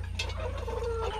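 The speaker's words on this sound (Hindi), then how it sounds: "बड़ी खुशी से खाती हैं ये मुर्गियाँ" Laying hens on a farm cluck softly in a brief, quiet moment, a few short calls over a low steady background hum.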